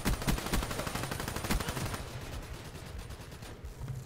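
Rapid bursts of shotgun fire in the Black Ops 3 game on PC, loud repeated blasts dense in the first two seconds, then thinning into scattered shots and game noise.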